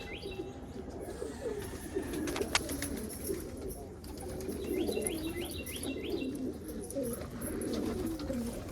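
Pigeons at a backyard pigeon loft give soft repeated coos and chirps at a moderate distance over a low, steady outdoor background, with a brief flutter of wings.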